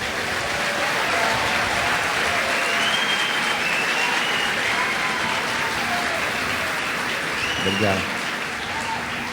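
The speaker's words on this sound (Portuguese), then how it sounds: "Uma salva de palmas para essa turma" Audience applause fills a church, steady dense clapping throughout at close range, with a single spoken word near the end.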